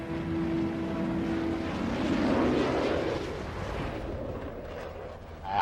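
Typhoon fighter jets flying outbound give a loud, broad jet roar that swells in the middle and then slowly fades as they move away, with no voices present.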